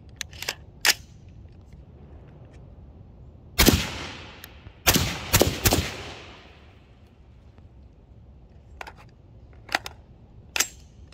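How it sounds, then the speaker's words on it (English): Suppressed Ruger SFAR 16-inch rifle firing five M118LR rounds on gas setting 2, loud sharp reports with echoing tails, a tight cluster in the middle and scattered cracks before and after, no talking. "Ruger SFAR 5 rounds, M118LR gas setting 2. Suppressed."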